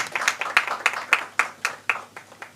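A small audience at a Barbados awards ceremony for a financial literacy game gives a brief round of applause, with distinct, fairly sparse claps in an uneven rhythm, moderately quiet and close.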